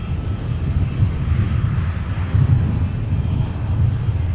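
A Delta Boeing 757 airliner landing at Minneapolis–St. Paul airport, a loud continuous low engine roar with wind rumble, steady throughout and fairly close.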